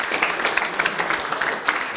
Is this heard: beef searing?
no